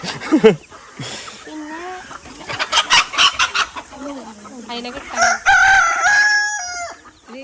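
Chickens cluck around a children's poultry business, and a rooster gives a long, loud crow toward the end, with people talking over the birds.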